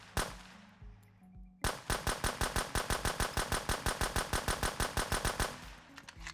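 A suppressed K416 rifle fires in the survival shooter Road to Vostok: a single shot, a short pause, then a long steady burst of rapid, evenly spaced cracks, close and loud, ending abruptly.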